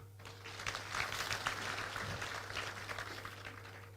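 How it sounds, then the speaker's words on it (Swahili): Faint applause from an audience honoring Mama Jane: a soft, scattered patter of clapping that stays distant and quiet over a steady electrical hum. "tumpigie makofi mama"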